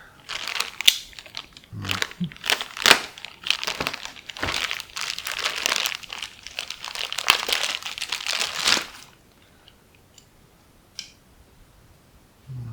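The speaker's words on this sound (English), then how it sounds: "open up this bag here" A plastic bag holding inverted-design shock absorbers from a FlatOut suspension kit crinkles and crunches for about nine seconds, close and fairly loud with sharp crackles, then goes quiet apart from a few faint handling noises.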